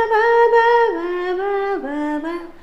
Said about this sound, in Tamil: இந்த பேஞ்சோ இசையை தொடர்ந்து சடனாக ஒரு சாக்ஸோஃபோன் ஒன்று வரும்.